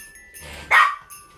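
A dog gives a single short, sharp bark close by in a home kitchen while a Christmas mincemeat strudel is being prepared, with quiet room noise before and after.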